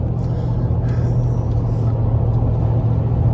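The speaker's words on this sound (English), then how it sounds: "Cruising at 67 miles an hour ish." A 2025 Ford F150 with an MBRP S5211 cat-back exhaust cruises at about 67 mph, giving a steady, low, even drone and road rumble heard from inside the cab, quiet and unbroken throughout.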